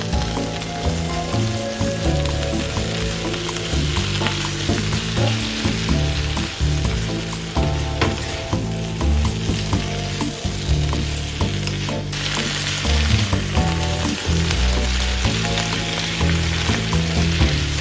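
Bok choy stir-fries in a hot wok, a loud continuous crackling sizzle with tossing and spatula stirring throughout, no voices.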